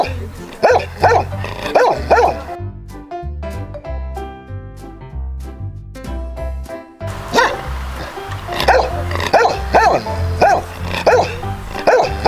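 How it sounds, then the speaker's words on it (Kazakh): A dog barks repeatedly nearby in loud, clipped bursts, with short gaps between barks and a voice speaking between them. "ит."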